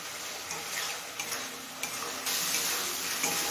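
Fried fish head and spices sautéing in a pan give a steady, close sizzle, broken by occasional light ticks and scrapes of stirring.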